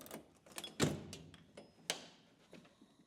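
Door of a Kaer 10–12 gun safe opening, heard as a few sharp metallic clicks and clunks from the latch and hinges, close by and spaced irregularly in an otherwise quiet room.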